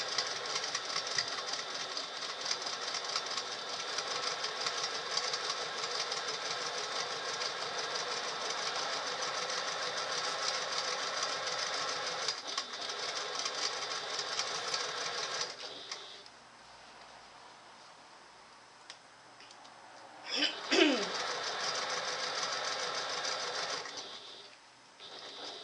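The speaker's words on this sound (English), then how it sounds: "Now I'm just going over where the woven label is." A sewing machine stitching over a woven label hums and buzzes steadily and fairly quietly for about fifteen seconds, then stops, leaving faint clicks and a brief knock.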